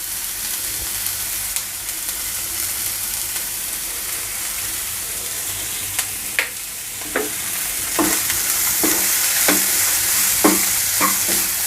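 Broad bean curry with chopped tomato and salt being stirred in a kadai, a steady soft sizzle under scraping spoon strokes that grow more frequent and distinct toward the end, with no talking.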